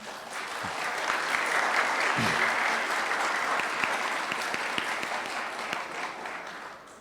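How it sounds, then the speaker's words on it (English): An audience at a lecture on EU-Indonesia relations gives the ambassador a round of applause, a dense even wash of many hands that swells early and then gradually tapers off, heard at a moderate distance. "Everybody, please give a big round of applause."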